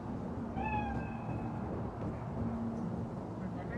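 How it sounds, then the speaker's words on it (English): A cat meows once in Cyberpunk 2077, a short rising cry near the start, over ambient game background noise. "Chill. It's just a cat."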